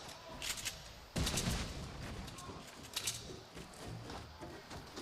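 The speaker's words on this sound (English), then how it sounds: "Scoped assault rifle in the hands of Balla." Rapid gunfire from a scoped assault rifle in a Fortnite match at the Fall Skirmish grand finals at TwitchCon, with bursts of shots and loud impacts that jump sharply about a second in and continue as a steady battle din.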